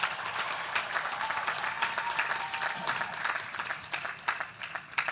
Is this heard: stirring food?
no